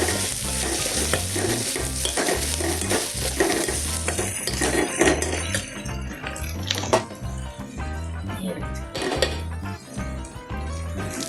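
Potato masala for poori sautéing with chilli powder in a pan: steady loud sizzling and frying under rhythmic scraping and stirring of a spatula against the metal pan, continuous and close, with no talking.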